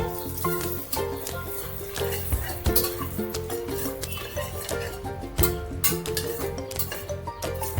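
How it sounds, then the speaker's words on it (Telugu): Cashew nuts fry in a pan, giving a continuous crackling sizzle with scattered clinks and scrapes of stirring throughout. "ఇక్కడ ఆల్రెడీ జీడిపప్పు గోల్డెన్ ఫ్రైలో కరిగిపోతుంది, ఫ్రై అవుతుంది అన్నమాట"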